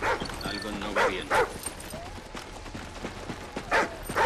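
A dog barks repeatedly in Call of Duty Ghosts, several sharp yips and barks in irregular bursts, close and loud amid game ambience with someone shouting in Spanish over it.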